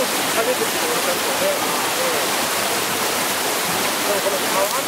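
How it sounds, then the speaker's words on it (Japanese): Loud, steady rushing of river water flows without a break throughout, the broadband wash of a fast stream or small cascade heard up close. Speech may be faintly present beneath it. "この川の音、水の流れの音がさ"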